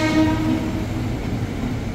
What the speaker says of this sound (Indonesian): Jalur 2 masuk tujuan Duri Angke,